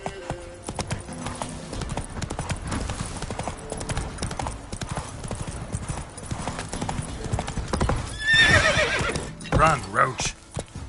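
Roach the horse gallops in The Witcher 3, hooves pounding in a rapid close clip-clop rhythm, broken near the end by a loud neigh and whinny over the running.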